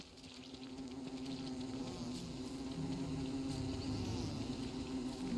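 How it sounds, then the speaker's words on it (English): Swarm of bees in the video game Don't Starve, a dense continuous buzzing drone that holds steady and swells slightly over several seconds, alone without talk. "That's a lot of bees."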